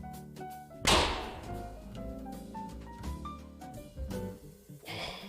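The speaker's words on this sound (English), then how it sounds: "Why did it make a gunshot sound?" A single sharp gunshot-like crack goes off near the one-second mark over steady background music in a cooking video game, loud and abrupt, then fades back under the music.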